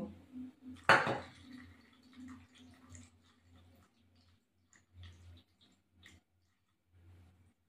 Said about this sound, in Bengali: এবার এই ছাঁকনিটা দিয়ে এই পেস্টটা এখানে করে নেবো।